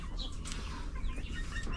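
Chickens clucking softly at close range in their pen, a scattering of short clucks over a low outdoor background hum.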